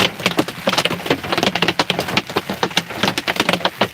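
Hailstones batter a car during a storm chase in the Oregon and Washington area, sharp and close knocks coming in quick irregular bursts like a rapid, uneven drumming on metal and glass.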